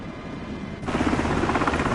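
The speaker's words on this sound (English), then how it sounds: "That's the helicopter." A Blackhawk helicopter's engine in a flight simulator, cold start in the UK, swells up abruptly after a quieter start, then holds as a loud, close, pulsing drone with a rhythmic rotor thrum.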